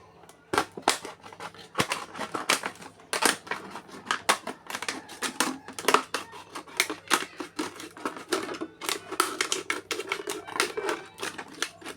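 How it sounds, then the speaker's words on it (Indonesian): Scissors cutting through a plastic mineral water bottle, a dense run of crisp, irregular snips and crackles repeating close up throughout. "Dan kita gunting seperti ini."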